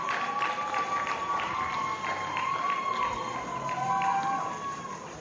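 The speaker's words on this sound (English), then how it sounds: "Crowd has built considerably since the kick-off" Crowd noise from spectators at a semifinal football match on a balmy Sunday evening, a steady distant murmur with faint scattered cheers, heard throughout without clear speech.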